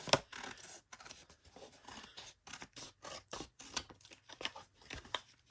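Scissors snip through a paper tag whose glue is still wet, a run of short close cuts and rustles with brief pauses between strokes, fairly quiet and with no voice.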